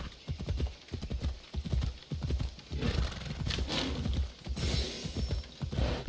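Horse hooves clip-clop in a quick, steady rhythm, close by, with a short whinny and some rustling noise partway through, in the video game Assassin's Creed Odyssey.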